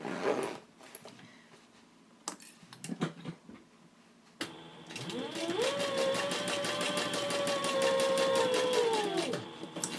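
A Sailrite Fabricator sewing machine stitching through bag fabric: after some scattered handling clicks and thumps, the motor whirs up into a loud, steady rapid needle chatter for several seconds before winding down, close and alone.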